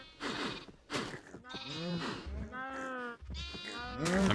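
Farm animals in a Minecraft modpack call out in a string of loud, close bleating, moaning cries, several overlapping calls in quick succession with brief gaps.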